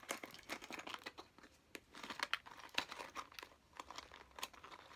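Small product packaging is worked open with a staple remover, giving faint, close crinkling and tearing with irregular crackles and snaps across the whole stretch.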